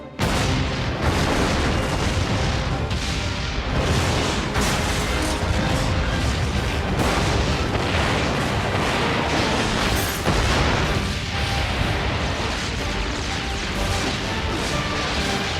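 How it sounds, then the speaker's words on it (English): Explosions rip through Gotham City in the animated Batman series, a loud, continuous barrage of booms and crashing blasts that fills the whole stretch with dense, rumbling impacts and no pause. "Gotham City exploding."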